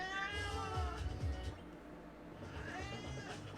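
A black cat gives two drawn-out, whiny meows, the first wavering and longer, the second rising near the end, close and fairly quiet in a calm room.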